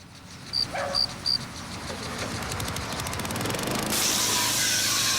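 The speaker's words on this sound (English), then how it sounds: "Just spray it on." Three short hissing bursts of Armor All wheel cleaner spray, then a sustained broad hiss of spraying that grows louder and brighter toward the end, with no talking.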